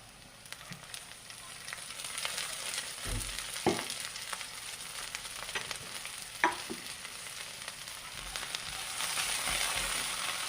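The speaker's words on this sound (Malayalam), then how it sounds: "ഇനി നമ്മൾ ചെയ്യേണ്ടത് ഇത് ഫ്രൈ ആക്കി എടുക്കണം" Sliced okra frying in coconut oil in a frying pan, giving a continuous close sizzle with a few sharp clatters and scrapes of a spatula stirring the pan; no one speaks.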